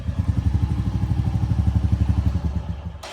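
A motorcycle engine runs during a ride, a close rapid pulsing thump with an even rhythm that drops away abruptly near the end.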